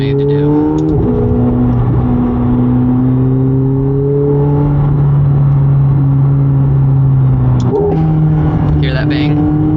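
A McLaren 750S supercar engine revs hard and rises in pitch through the gears, dropping between shifts with an exhaust bang near the eight-second mark, loud and close throughout.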